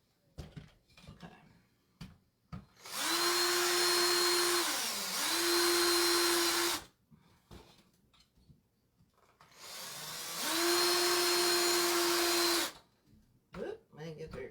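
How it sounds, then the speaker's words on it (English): An electric drill bores small holes for a mannequin head floral centerpiece, whirring in two sustained bursts of a few seconds each, spinning up and down, with brief handling noises and pauses between them. "We're just going to drill some small holes through there"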